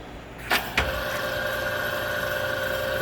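A 33-by-120-inch Clausing Boravia engine lathe engages its rapid traverse, a couple of clunks followed by a steady mechanical whine and hum with a sustained tonal drone, close and moderately loud, no talk.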